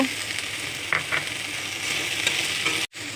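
Boiled potatoes and taro stems sauté in a pan with salt and turmeric, giving a steady close sizzle with a few soft stirring scrapes before a brief cutout near the end.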